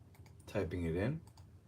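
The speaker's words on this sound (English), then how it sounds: "Typing it in." Scattered light clicks from a computer keyboard being typed on, with a voice briefly speaking over the middle of the keystrokes.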